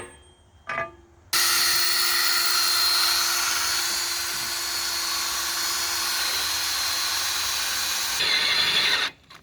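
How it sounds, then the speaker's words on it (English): A steady, high-pitched mechanical whine of a drill boring into metal, running continuously for several seconds after a brief start, loud and close. "Got to drill holes in this piece here, fixing to mark them, drill them."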